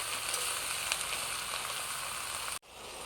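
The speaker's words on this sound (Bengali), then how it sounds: "পেঁয়াজ ভাজার উপরে দিয়ে দেবো কেটে রাখা সবজিগুলো।" Freshly chopped vegetables sizzle steadily over fried onions in a pan, a dense close hiss that cuts off abruptly near the end and resumes more quietly, with no talking.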